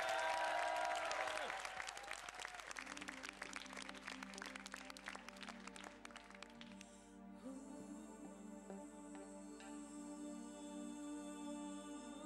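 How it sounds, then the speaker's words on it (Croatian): A studio audience on a TV talk show claps loudly for the band, the applause dense and close for a couple of seconds before fading under music that takes over. "Veliki aplauz za njih"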